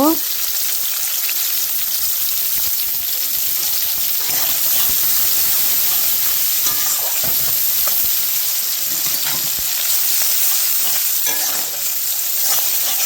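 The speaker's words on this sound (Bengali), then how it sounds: "এতে দিয়ে দেবো তেলে জিরে, তারপরে পেঁয়াজ দিয়ে দিলাম।" Onions and cumin seeds fry in hot oil for an eggplant bhorta, making a loud, steady, hissing sizzle with occasional stirring scrapes that lasts throughout.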